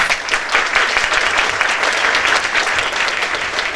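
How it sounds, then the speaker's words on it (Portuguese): Audience applause at a neurodiversity talent event in Rio, steady and dense clapping from a sizable crowd, loud and continuous throughout with no talk over it. "Muito obrigada pela presença de vocês, uma salva de palmas."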